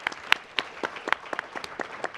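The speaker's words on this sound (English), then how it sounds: "Let me give a big round of applause to this particular panel" An audience at a panel discussion on super-pollutant climate solutions claps for the panel, a brief, fairly quiet burst of scattered applause.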